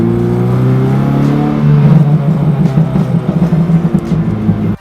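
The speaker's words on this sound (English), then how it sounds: "This car is so freaking rowdy and loud, and it's amazing." A Honda Civic EK engine revs loudly while driving, its rowdy exhaust note climbing and surging through gear changes, close and steady with no one talking.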